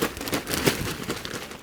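Potting soil being stirred together with perlite for a raised garden bed, giving a steady crumbly, gritty rustle with loose crinkling textures, close up and continuous, without talk.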